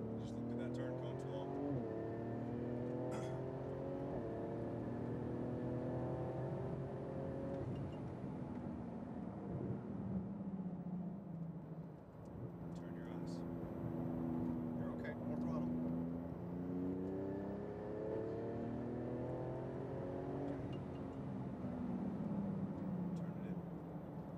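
A Porsche 911 GT2 RS engine pulling under throttle on a track, its steady drone rising and falling in pitch with the revs while a man gives driving instructions over it.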